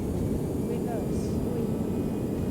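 An A319 airliner roars with reverse thrust during its landing rollout in the X-Plane 11 flight simulator, a steady, loud low rumble with a faint high whine above it, holding constant throughout.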